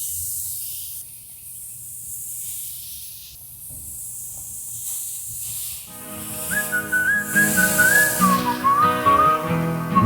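Burgers laid on a hot Monument grill give off a steady, soft broadband hiss of sizzling fat; after about six seconds a bright whistled melody with backing music comes in over the sizzle.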